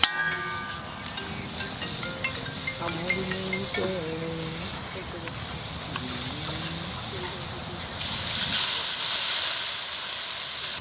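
Steady hissing sizzle of mutton bone kabab in a pan after a little water is added. Voices talk over it for most of the clip, and the sizzle surges louder toward the end.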